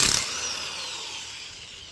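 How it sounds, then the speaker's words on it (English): An impact wrench works a bolt on a Nissan Altima 2.5 rear engine mount, a close, loud whirring burst that quickly settles into a steady high spin-down. "Don't use chrome sockets for this when using an impact."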